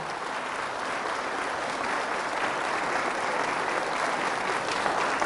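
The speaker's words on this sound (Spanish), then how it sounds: "Fuertes aplausos" A church congregation applauding loudly during a Spanish-language sermon on physical healing, a dense sustained roar of many hands clapping at an even level throughout.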